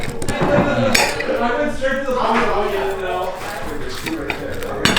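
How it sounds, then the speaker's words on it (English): A knife scrapes and clinks against a plate while cutting a vegan Thanksgiving roast with a slightly burnt bottom, rhythmic sawing and cutlery chinks mixed with people talking nearby. "Okay, who's cutting the roast up?"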